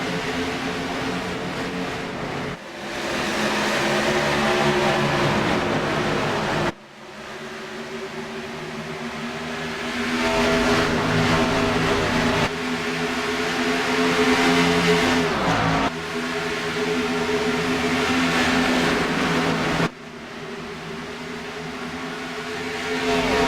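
NASCAR Xfinity race cars roar through a restart at Texas, a loud, sustained engine drone that surges in several waves as the pack accelerates past, with no talk over it.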